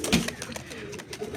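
Two restless male pigeons in a cage give a brief, close coo, with a short burst of fluttering or shuffling near the start.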